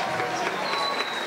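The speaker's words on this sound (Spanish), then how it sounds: "Y un fuerte aplauso para un amigo y un personaje único." Applause from an audience for a live performer, a steady dense patter of clapping and crowd noise lasting about a second, with a voice speaking over it.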